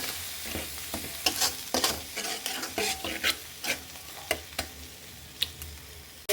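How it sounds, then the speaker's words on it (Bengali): Masala spice paste frying in hot oil while cooking mutton rezala, heard as a close sizzle broken by a series of sharp scraping and stirring clatters at an irregular rhythm, with no voices. "এখন আমি এই মশলাটা দিয়ে দেব। ওই তেলের ভিতরে"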